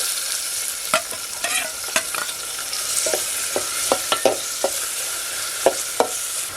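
Chopped onion tipped into a pan of frying bharangi wild greens and stirred, a spatula scraping in a series of sharp irregular strokes over a steady bright sizzle, close and fairly loud with no talking.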